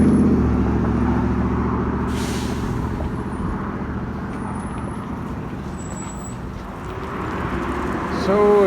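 A city bus at a stop, its idling engine rumbling steadily with an air brake hiss and passing traffic noise around it, ending with a short rise in engine sound.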